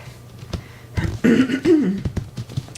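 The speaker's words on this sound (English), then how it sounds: "Sorry about the morning cough." A single short, throaty morning cough rises out of quiet room noise during a yoga class, with a few faint thumps around it.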